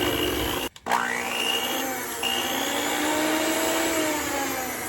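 An electric mixer on low speed beats pecan chewy chocolate cookie dough, giving a steady, close whirring drone that cuts out briefly near the start and then runs on evenly.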